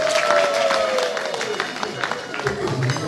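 Scattered clapping and crowd noise at a birthday celebration, with a voice over a sound system and a sliding tone in the first half, then a livelier mix of claps and chatter.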